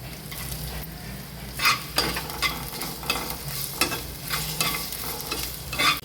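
Spices frying in a pan with chopped ginger, fenugreek seeds and a bay leaf for raw mango chutney, a steady close sizzle broken by repeated scraping strokes of stirring.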